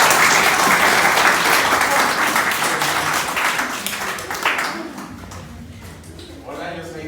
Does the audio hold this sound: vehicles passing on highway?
no